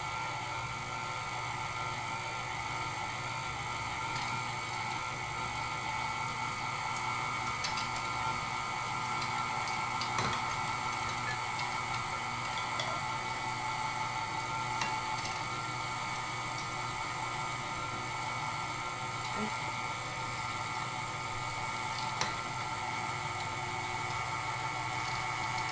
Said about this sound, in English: Now we're gonna start grinding. Gonna do a chunk at a time.